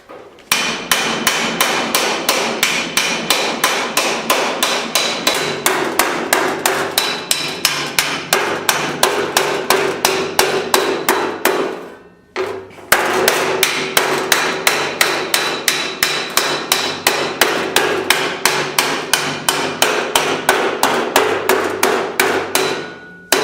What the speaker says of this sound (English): we're going to use a larger ball peen hammer right now, and we're going to go ahead and start hitting the center